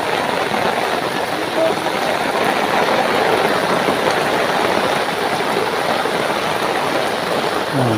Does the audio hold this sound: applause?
no